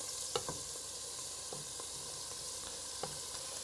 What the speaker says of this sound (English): While that is melting, I'm going to start add the onions. And some peppers.